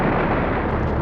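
A video game explosion as items are blown up, a loud, dense, continuous rumbling blast filling the whole moment with no pause, close and heavy.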